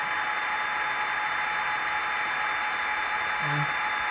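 The sound decoder of an HO scale EMD SD40-2 model locomotive from ScaleTrains plays its dynamic brake sound, a steady, fairly quiet broadband hiss with a brief low tone near the end.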